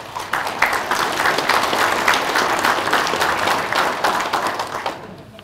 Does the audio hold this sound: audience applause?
yes